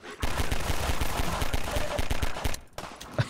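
Rapid automatic gunfire from the player's weapon in Half-Life 2: Episode One, a steady rattling burst of close, loud shots lasting a few seconds before cutting off, followed by a couple of scattered sounds.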